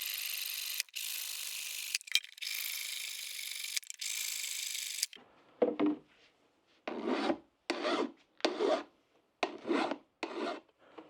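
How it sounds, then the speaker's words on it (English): A junior hacksaw trims small bolts on a homemade camera flash box, first in a long continuous rasp, then in short, sharp back-and-forth strokes with gaps between them. "What we need to do now is just trim these little bolts off,"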